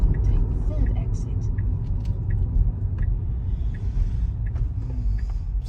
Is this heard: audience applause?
no